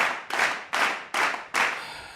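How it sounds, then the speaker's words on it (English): Four sharp, evenly spaced bursts of hand claps ring out close and fairly loud, with each burst decaying before the next, sounding like a small group clapping to urge on a round of applause. "A round of applause"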